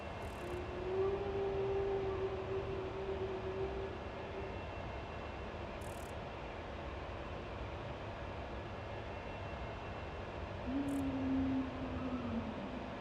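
Steady siren from the factory-building video game Satisfactory, a sustained tone sliding slightly downward, fading and then returning near the end, over a constant low rumbling mechanical drone, with no talking.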